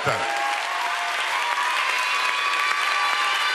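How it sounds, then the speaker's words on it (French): A crowd at the Miss Guyane 2018 pageant applauds the seven candidates, sustained, dense clapping filling the hall at an even, loud level throughout. "Applaudissez bien, bien, bien fort les 7 candidates."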